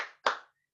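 Children clap together in a classroom during the 'tepuk good job' clap chant: two close, dense bursts of hand claps, the second louder, with no voices in between.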